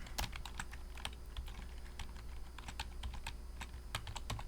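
Rapid keystrokes on a computer keyboard while entering an SQL command, a close, quiet, uneven patter of clicks with short pauses.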